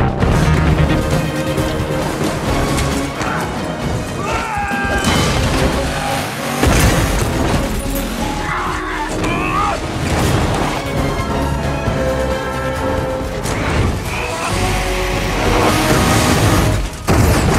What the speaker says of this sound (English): the modified car crashed into the train, and the driver also passed out